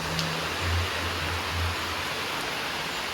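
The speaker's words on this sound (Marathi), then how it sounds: "इतका पाऊस पडतोय इथे मला आय थिंक आवाजावरून तर कळतच असेल इतकी जोराची सर आली आहे पावसाची" A heavy rain shower in Konkan roars in a dense, unbroken wash of noise, loud and close, with a low hum underneath.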